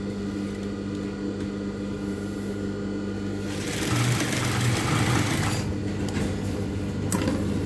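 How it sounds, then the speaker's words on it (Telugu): An electric sewing machine stitches cross lines across fabric, a steady whirring hum that grows louder and busier in the middle stretch, close by and with no talking. "ఫస్ట్ క్రాస్ లైన్స్ కుడుతున్నాను అనమాట."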